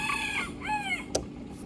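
A rooster crows twice in quick succession, its drawn-out calls loud and close, with a sharp click between them and a steady background hum.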